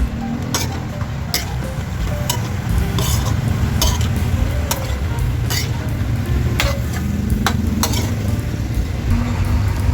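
Chicken liver menudo stirred in a pan after hot water is added, a steady scraping and clinking of a utensil against the pan with light sizzling throughout, close and fairly loud.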